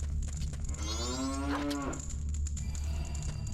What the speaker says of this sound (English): And the last room is, it's a cow.